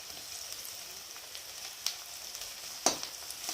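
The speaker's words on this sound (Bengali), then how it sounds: "এর মধ্যে এবার দিলাম আদা আর রসুন কুচি" Chopped ginger and garlic frying in oil over low heat, a soft steady sizzle with a couple of sharper pops and stirring clicks, fairly quiet and with no talking.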